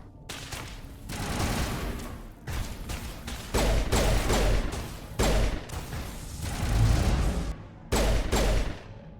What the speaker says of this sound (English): why are you firing it, Ashley?